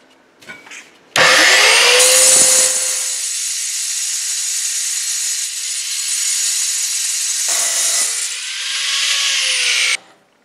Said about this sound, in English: with the diamond plate cut-off blade, metal blade, you get almost a perfect cut every time with it